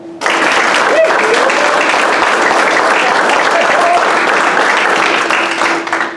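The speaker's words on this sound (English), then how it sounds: "Let's give them a round of applause for a job well done" Graduation audience applauding instructors, loud continuous clapping from a large crowd in a hall, starting abruptly and holding steady, with a few faint voices underneath.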